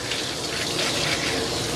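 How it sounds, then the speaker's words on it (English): Water runs steadily from a tap or sprayer while a Maltese dog is rinsed during grooming. A continuous hissing gush stays moderately quiet and even, with no talk. "you can also see when the water is running clear off of your dog"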